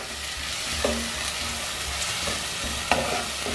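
Masala for a butter beans gravy sautés in a pan with a steady, dense sizzle and occasional soft stirring scrapes. The frying is close and continuous.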